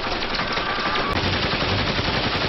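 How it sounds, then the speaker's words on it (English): Rapid bursts of gunfire from the TV series Arrow, a dense fusillade of loud cracks filling the whole short stretch, with no voices over it. "The shots are just a distraction!"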